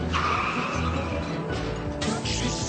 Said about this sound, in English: A delivery truck tears through the intersection.